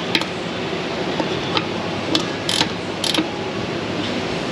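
A bolt turns on the wheel hub of a seven-lug Ford F250 whose wheels fell off, with close, rough mechanical ratcheting and scattered metallic ticks over a steady noisy background, no voices.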